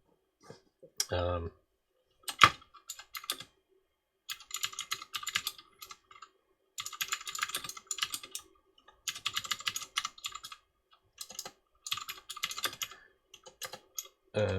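Bursts of fast, close computer keyboard typing with crisp, dry clicks come in clusters separated by short pauses, with a few louder knocks early on and brief spoken words at the start.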